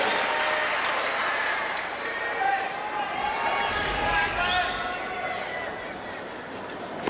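Tennis crowd at the US Open men's match between Agassi and Hewitt applauding steadily, a dense continuous roar of clapping and cheering that swells slightly midway, with an announcer's voice faintly under it.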